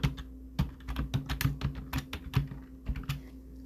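Rapid, irregular keystrokes on a computer keyboard while entering text in Photoshop, a close, crisp clatter of individual key taps with brief pauses, with no voices.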